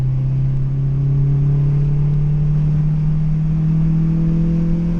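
A 2002 Acura RSX engine drones steadily while driving, a loud low hum that climbs gently in pitch as revs rise, with road rumble underneath and no talk.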